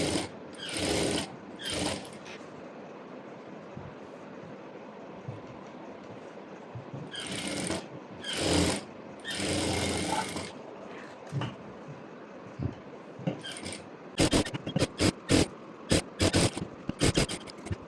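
A sewing machine runs in short, separated bursts as it stitches a lining to a fabric edge on a saree-to-maxi dress, a rattling mechanical whir with pauses between runs, fairly close and with no talk.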